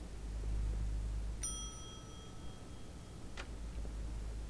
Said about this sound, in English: Alright, let's ring the bell.